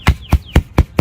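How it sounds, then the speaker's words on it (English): Boundary stakes for a Worx Landroid robotic lawn mower are hammered into the ground with five sharp, evenly spaced strikes in quick succession, each a loud close thud with a short ringing tail. "then you just hammer these stakes in the ground"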